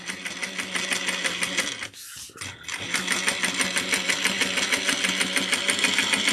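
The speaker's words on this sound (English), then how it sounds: "that's a nice top stitch we get." Close, steady sewing machine top-stitching a tote bag, a rapid even clatter that breaks off briefly near the start and then resumes, alone with no talk.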